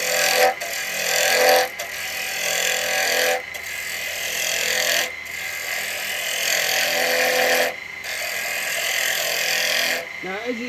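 A carbide chisel cuts wood on a woodturning lathe, giving a loud, continuous rasping hiss in several long passes separated by brief pauses, near and dominant.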